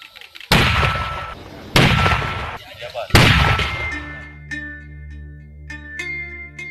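Mortar firing, from an Indonesian-made mortar system: three loud, sharp blasts about a second apart, each with a short rumbling tail, then music takes over.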